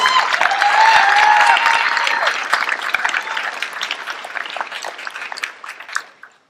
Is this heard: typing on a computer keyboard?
no